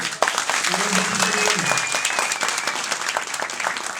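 A crowd applauds at a community welcome gathering, dense clapping from many people continuing evenly throughout, with a voice briefly rising over the noise near the start.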